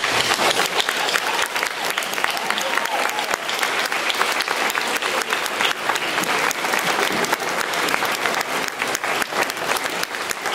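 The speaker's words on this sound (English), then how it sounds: "join me in giving them a round of applause" Sustained, dense applause from a large crowd at an 8th-grade graduation ceremony, steady and loud for the whole stretch with no speech over it.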